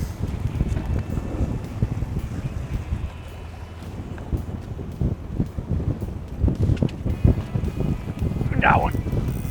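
Strong wind buffets a fishing boat offshore in Florida, gusting roughly and steadily across the microphone with a boat motor and water beneath, as people talk over it.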